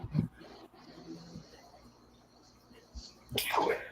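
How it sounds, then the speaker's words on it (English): A single sharp sneeze bursts out near the end, loud and close, after a stretch of quiet background noise with faint breathing. "And I think I have to sneeze again."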